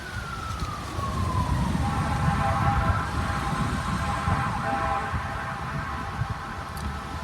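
A fire truck siren wails outside at a distance, its tone sweeping down and then holding as it passes on a breezy, hot, dry day in Oklahoma, faint against steady road and wind noise.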